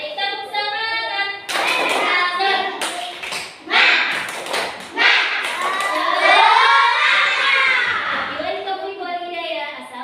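Third-grade primary school children clap together in a classroom, loud bursts of rhythmic clapping mixed with shouting and cheering, with voices throughout.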